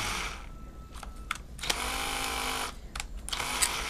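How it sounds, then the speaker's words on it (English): A small cordless drill with a low battery whirs steadily, close by, its motor sounding strained and sluggish, with brief pauses and stops between runs. "you can hear that I don't have a fully charged drill"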